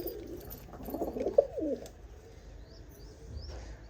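Pigeons in a loft during breeding season, with a hen sitting on eggs, give a soft, brief coo up close, then fainter chirps in the quiet that follows.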